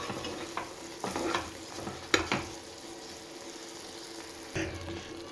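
Prawns fry in ghee in a pan for a Mangalore Kundapur-style ghee roast, with a low background sizzle and a few sharp scraping strokes of a spatula stirring the pan.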